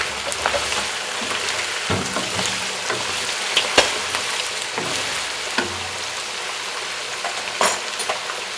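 Steady sizzling of chicken frying in a karahi with garlic, ginger and salt, with occasional scraping clinks from stirring; no talking.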